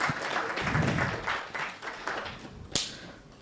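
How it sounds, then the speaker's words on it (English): A conference audience claps in a short round of applause that swells and thins over a few seconds, moderately loud, closing with a single sharp clap. "let's give him a round of applause first"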